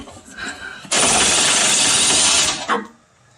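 A power tool bursts into a loud, harsh whirring for about a second and a half as it works on the transfer case bolts of a Jeep, then cuts out, with a brief rattle and faint background noise around it.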